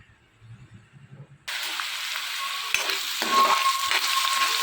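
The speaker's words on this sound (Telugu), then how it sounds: "ప్యాన్లో ఆయిల్ పోసుకుని ఎండుమిర్చి పచ్చెనపప్పు జీలకర్ర కరివేపాకు ఆనియన్స్ అలాగే వెల్లుల్లిపాయలు వేసుకుని ఇవన్నీ కూడా బాగా వేయించుకోవాలి" Dried red chilies, chana dal, cumin, curry leaves, onions and garlic hit hot oil in a pan after a quiet moment, bursting into a loud, steady close sizzle that continues to the end.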